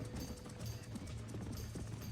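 Horses near a burning barn in Red Dead Redemption, hooves clopping in an uneven rush with a low rumble of background noise, fairly faint and continuous without talk.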